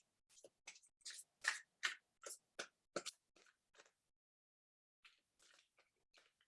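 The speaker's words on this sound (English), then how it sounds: "Let's shuffle that a little bit more because that was fairly shuffled." A tarot card deck shuffled by hand gives a run of crisp, close rustling and snapping bursts in quick succession, a short pause, then a few softer shuffles; no one speaks.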